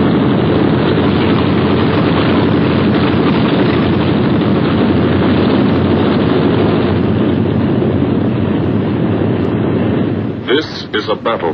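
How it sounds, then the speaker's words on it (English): Four-engine B-17 bombers in flight over the English countryside during World War II, a dense, steady droning roar holding loud throughout, with a narrator speaking over it and a brief crackling burst near the end. "Only the roaring engine sound of the bombers pounding through the quiet English countryside."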